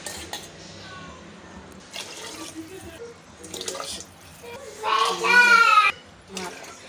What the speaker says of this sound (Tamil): மொத்தமாக நான் இப்போ ஆறரை டம்ளர் கிட்ட வந்து தண்ணி சேர்த்துக்கிறேன்